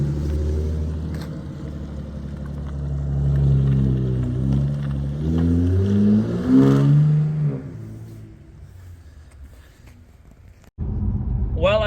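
BMW 650i Gran Coupe on the road, with a high-mileage engine that has issues, its engine rumbling and rising through several revving gear pulls before easing off, with a brief voice near the end.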